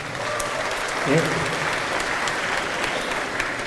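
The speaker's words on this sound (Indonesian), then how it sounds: "boleh tepuk tangan buat Gajah Mada" An audience applauds at a political speech, a dense, even wash of clapping that stays steady throughout, with a brief voice rising over it.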